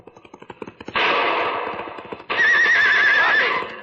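A horse neighs and gallops during an ambush in a Hopalong Cassidy old-time radio drama. Rhythmic hoofbeats lead into two loud, long whinnies, the second shrill and quavering, close and loud over the galloping.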